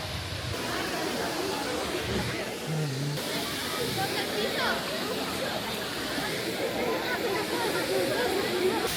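A giant waterfall above a hot spring spa in Baños, Ecuador, sends a steady broadband rush through the whole stretch, with a crowd chattering beneath it.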